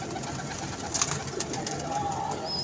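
Pigeons at a pigeon club coo in soft, steady low calls, close by, with light background noise and a brief brighter bird note partway through.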